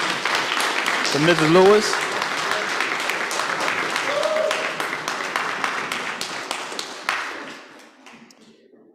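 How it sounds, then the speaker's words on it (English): Congregation in church clapping, a steady wash of applause that lasts several seconds and fades toward the end, with a voice speaking briefly over it. "So let's give another hand clap"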